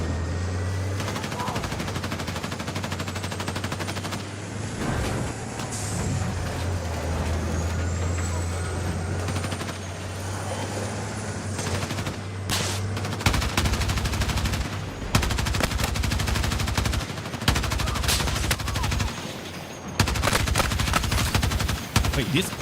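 Light machine gun fire in a first-person shooter's breakthrough mode, rapid bursts of shots crackling over a low engine-like drone, growing denser and louder in the second half.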